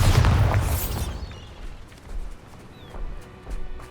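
A loud, booming Bombarda explosion spell in the video game Hogwarts Legacy bursts at the start and then fades. A few smaller thuds and pops follow in the quieter background.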